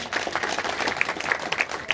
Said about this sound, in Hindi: एक बार इनके जोरदार ताली हो जाए